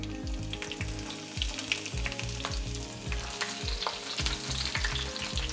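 Bashed garlic, red chillies, cumin seeds and mustard seeds fry in hot oil with a steady, close sizzle, broken by crackling pops and the repeated scrape of a spoon stirring the pan throughout.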